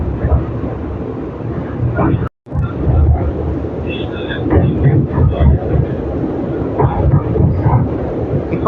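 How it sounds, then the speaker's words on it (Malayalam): A passenger train picks up speed, its carriage giving a loud, continuous rumble and rattle with rhythmic clatter, heard from on board with a brief dropout partway through. "ഇപ്പം ട്രെയിൻ കുറച്ച് സ്പീഡായിട്ടാണ് പോകുന്നത്"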